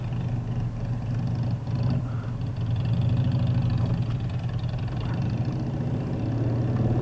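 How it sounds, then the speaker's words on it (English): A Harley motorcycle idles nearby at night in traffic behind a bus, its low engine rumbling steadily and moderately loud for several seconds with no talk over it. "Let me guess, that's probably a Harley."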